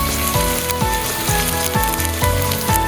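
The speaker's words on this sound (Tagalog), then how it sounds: "ilaglag natin sa isang kawali at imekos-mekos natin yan para mag-mix" Frozen garlic and chopped tomato sizzle in a hot frying pan, a steady crackling hiss running the whole time beneath a repeating rhythmic music track.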